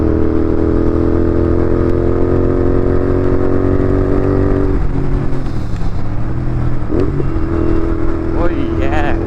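A Royal Enfield GT 650 motorcycle cruising on an open road, its steady engine drone loud and close with shifting pitch as it speeds up and eases off, wind rushing across it, with talk and other riders' voices underneath.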